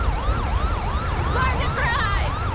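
An ambulance siren wails in GTA V with the LSPDFR police mod, a fast repeating yelp cycle, loud and close over road rumble, later joined by a second overlapping siren tone.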